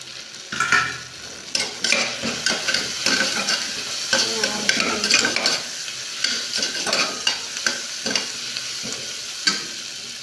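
Onions sizzle in a pan with mint and coriander, a close, steady frying hiss broken by repeated scraping stirs of a utensil against the pan, with no voices.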